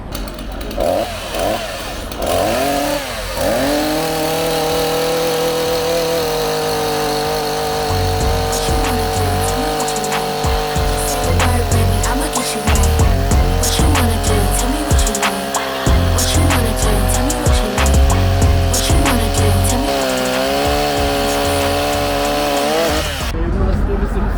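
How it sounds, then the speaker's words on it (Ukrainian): STIHL MS 172 and MS 180 petrol chainsaws cut wood in a side-by-side test, their engines howling steadily and rising and dipping under load, close and loud throughout with occasional sharp clatter. "на навчаннях пробують нові бензопили, але я також запропонував, що ми спробуємо МС-180, зрівняємо з МС-172"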